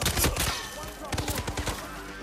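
Rapid bursts of gunfire in the stealth video game Hitman 3, several sharp shots and short volleys clustered together, fairly loud and close, with game noise and a voice mixed in underneath.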